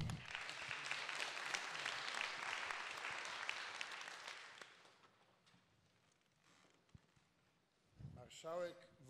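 Audience applause for the marshal of Małopolska Voivodeship at a public ceremony: dense clapping for about five seconds that fades to scattered claps, then a voice speaks near the end.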